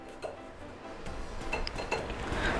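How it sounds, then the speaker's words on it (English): A spoon stirs flour and baking powder in a bowl for a butterscotch cake, making steady scraping and light clinks as the dry mix is sieved, with small metallic taps scattered through it. "Now I'm going to stir this really well and sieve this"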